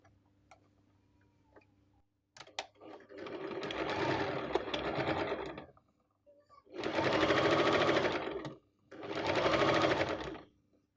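Domestic sewing machine stitching patchwork quilt pieces and a zipper in three loud, steady bursts of rapid mechanical chatter, separated by quiet pauses with small clicks and handling noises.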